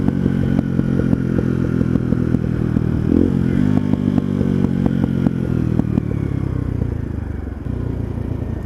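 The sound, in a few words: motorcycle engine and exhaust revving with popping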